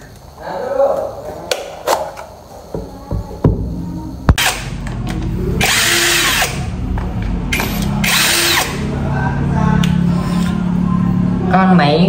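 A faulty battery drill that runs erratically starts and stops amid clicks and handling knocks, then whirs in loud, uneven sustained bursts close by.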